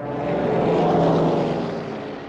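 Aircraft engines of German bomber planes over London drone in a dense, continuous roar that swells slightly and then eases, with no voices.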